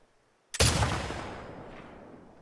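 A single loud gunshot in The Last of Us Part II cracks sharply after a quiet moment, then decays into a long, rumbling outdoor echo that fades over about two seconds.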